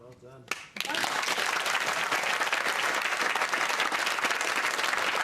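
A brief voice, then sudden loud audience applause that swells in and holds steady, thick and continuous clapping from a large room.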